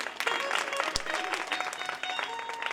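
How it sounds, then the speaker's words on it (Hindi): Audience applause at a Bhagwat Katha religious gathering in Bisapur Kalan, Chhindwara, a dense continuous burst of clapping from a crowd, moderately loud and steady across the short stretch. "और एक बार उनके लिए जोरदार तालियां जो कलश यात्रा में सम्मिलित नहीं हो पाए"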